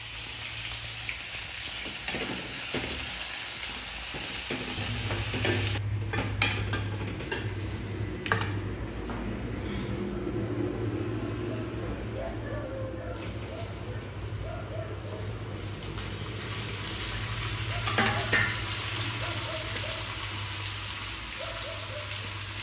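Paneer gravy stirred and cooking in a pan in a home Nepali kitchen, a soft continuous sizzle with scattered scrapes and clinks of a utensil against the pan, fairly quiet, with a steady low hum underneath.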